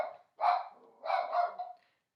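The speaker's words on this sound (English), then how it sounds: "don't know what she's barking at" A dog barks twice indoors, a short bark followed by a longer doubled one, moderately close with quiet between.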